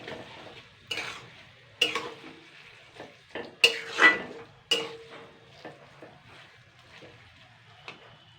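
Onion, garlic and taro leaves stirred in a pan, with a spoon knocking and scraping against the metal in irregular clanks and taps over a faint background, some strokes louder and closer than others.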